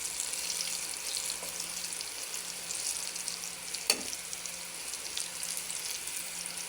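Eggplant slices dredged in flour and salt fry in hot oil, giving a steady close sizzle with crackling hiss and a sharp clink or tap partway through, with no talking.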